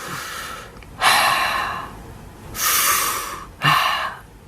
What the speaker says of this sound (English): let's take a deep breath. I'm gonna breathe with you.